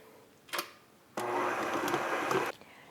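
An electric hand mixer whirs as chopped marzipan is beaten into cake batter for a German poppyseed crumble cake, with a brief burst followed by a steady, close, loud run of about one and a half seconds before it cuts off.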